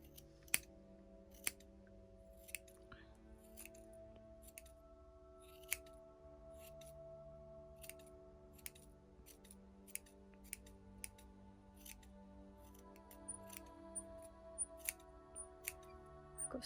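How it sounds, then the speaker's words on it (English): Squeaky scissors make quiet, close snips at an uneven, unhurried pace while trimming a Christmas gnome (gonk) decoration. "I've got squeaky scissors."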